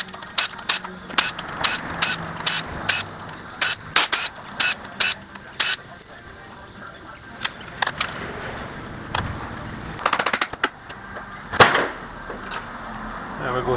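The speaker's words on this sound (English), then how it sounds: "Next thing I'm going to do is pop off the valve covers and get them installed." A hand ratchet clicks in rapid bursts while an engine's valve covers are removed, then clanks and scrapes of metal parts follow, close and fairly loud.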